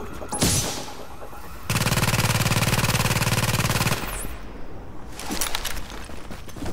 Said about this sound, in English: Oh no, they're shooting at me